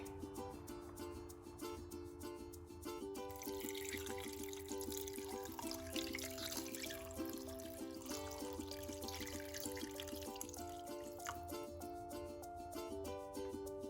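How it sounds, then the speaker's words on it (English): Water is poured into a cooking pot holding cut pork, a steady splashing rush running for several seconds beneath fairly loud background music. "I'm gonna pour some water."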